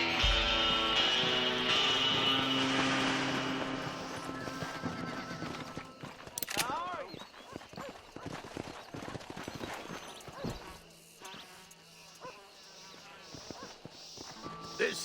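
A horse in the Western video game Red Dead Redemption clip-clops along with steady, close hoof beats, lets out a loud whinny partway through, and then keeps walking as faint buzzing insects sound in the background.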